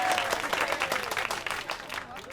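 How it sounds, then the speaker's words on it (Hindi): Audience applause greets a Hindi-dubbed action-comedy scene of hot biryani being handed out; dense clapping fills the short stretch at a steady loud level, with a voice faintly woven through. "तालियां।"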